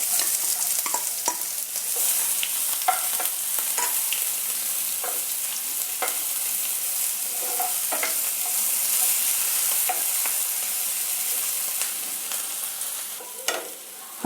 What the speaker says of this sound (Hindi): हम प्याज को थोड़ा सा भून लेंगे।